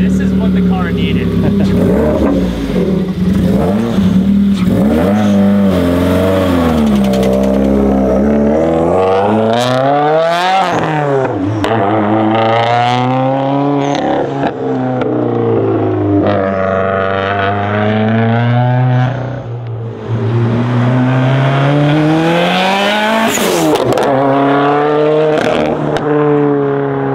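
A 2015 Subaru WRX with a newly fitted aftermarket exhaust revs hard over and over, loud and close, its pitch sweeping up and falling back in repeated swells with brief crackles, while people talk and react excitedly over it.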